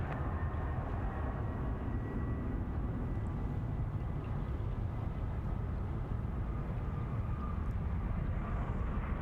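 A Velocity airliner touches down on runway 34 left at Sydney Airport, a steady, loud, broadband engine and rolling roar that holds unbroken from start to finish with no voices.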